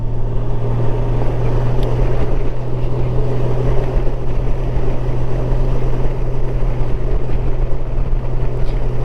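A Honda Gold Wing GL1800 motorcycle cruising on the road, its engine a loud, steady low drone under constant wind rush, heard close and continuous without talk.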